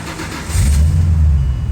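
The cheapest V8 car in the country cranks and catches, settling into a loud, close, low rumbling idle after a short starter whir.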